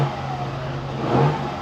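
A 2023 Toyota Tundra SR5 with a twin-turbo V6 idles with a steady low hum, then revs briefly, the engine note swelling and falling away, close by and with no talk.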